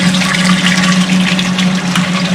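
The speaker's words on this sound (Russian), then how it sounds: "Вот вода у нас идет. Через фильтр выливается." Water is pumped through a homemade flushing booster and pours out through a filter in a loud, continuous gushing splash. A steady pump hum runs underneath.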